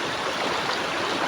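A strong river current rushes steadily past a wader trying to cross it, a dense broadband wash of water that stays loud and unbroken throughout.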